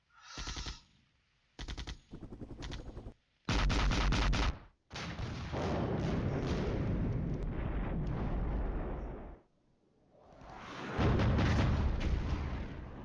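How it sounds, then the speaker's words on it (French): Tank cannon fire in a video game booms in rapid bursts, followed by long rumbling blasts and a sustained roar, loud and close. "on est sur le tank, on engage au canon"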